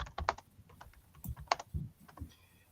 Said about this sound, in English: I'm just typing in the chat here